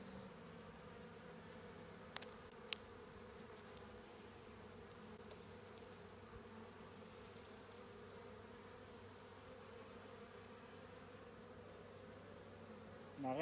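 Honeybees hum steadily around an opened hive during a colony split in early May in Québec, a continuous mid-level buzz with a couple of brief clicks and no talk.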